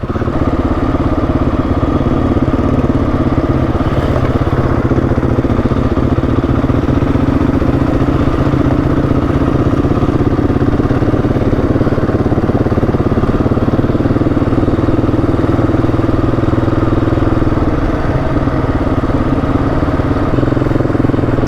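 Dirt bike motorcycle engine chugging steadily as it climbs a rough uphill trail in second gear, a continuous loud mid-pitched drone with clattery texture and no break throughout.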